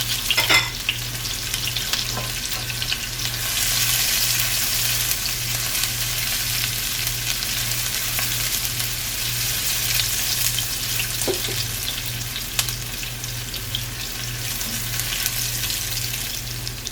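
Onions and seeds fry in a pan for curry, giving a steady, loud sizzle throughout with occasional stirring clinks and a low rhythmic hum underneath.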